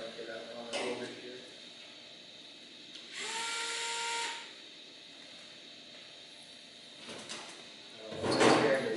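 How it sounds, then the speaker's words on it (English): Screws are worked out of an IBM Selectric III typewriter during disassembly, giving soft metallic scrapes and clicks with a short squeaking turn in the middle and a louder rattle near the end, all fairly quiet and close. "What screws can I get out on over here?"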